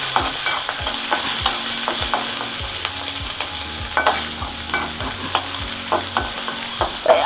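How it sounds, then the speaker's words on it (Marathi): Onion, chili, curry leaves, peanuts, roasted gram and peas fry in hot oil for pohe tempering while a spoon stirs, its scrapes and taps landing in an irregular rhythm over a soft sizzle. "कांदा, मिरची, कढीपत्ता, शेंगादाणे, पंढरपुरी डाळे, मटार, आता हे चांगलं भाजलेलं आहे"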